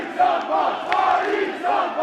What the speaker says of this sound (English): Listen to this crowd here tonight. Everyone on their feet.